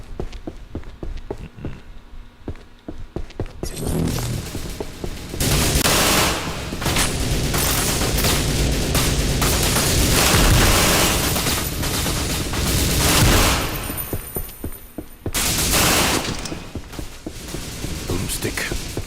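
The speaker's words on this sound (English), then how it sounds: "Let them continue to fire their fully automatic weapon until they start to reload." Fully automatic fire in a video game, with bursts of rapid gunshots and clatter that build into a long, dense volley, then break off and resume near the end, while a voice talks over parts of it.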